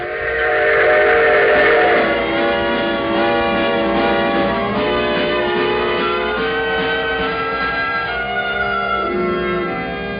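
A train runs with its whistle sounding loud and sustained, steady harmonic blasts over rumbling rail noise that fade slightly toward the end.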